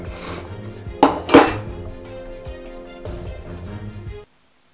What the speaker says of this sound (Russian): Тут получилась такая ситуация, у меня треснул стакан.